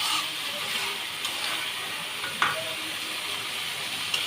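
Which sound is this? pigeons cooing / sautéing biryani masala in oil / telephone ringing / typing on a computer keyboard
sautéing biryani masala in oil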